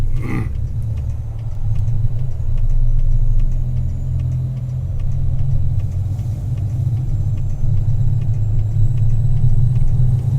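A car's engine gives a steady low rumble from inside the cabin on a drive toward a highway between Phoenix and Las Cruces, with road noise and no talking.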